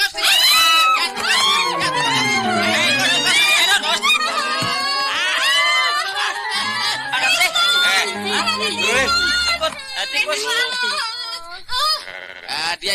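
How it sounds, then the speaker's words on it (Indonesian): People scream and shout loudly in a rapid, overlapping jumble indoors, with sliding wails and bleat-like cries that repeat over several seconds before a brief pause and more yelling. "Ya ngapain sih teriak-teriak?"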